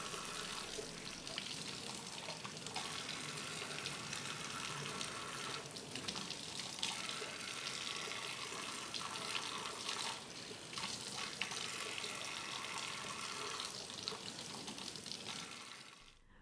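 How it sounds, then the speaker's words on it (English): Tap water runs steadily over the exterior of a LifeStraw Sip water filter straw being rinsed at a sink, a continuous close, even splashing hiss with no voices. "Rinse the exterior of the straw under safe drinking water only."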